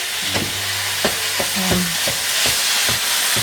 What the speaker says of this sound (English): Adding my mince now to the mushrooms.